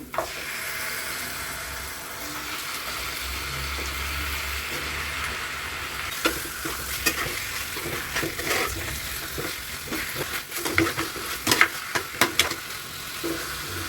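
Chicken is added to fried ginger garlic paste for pepper chicken, a steady sizzle at first, then spatula strokes clattering against the pan in quickening, uneven bursts, close by with no talking.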